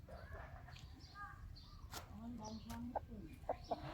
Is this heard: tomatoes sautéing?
no